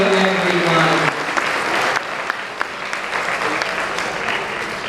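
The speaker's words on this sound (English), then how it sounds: "Can we get a round of applause, please?" Audience at a cultural honoring celebration gives a round of applause, steady crowd clapping throughout, with a voice speaking briefly at the start.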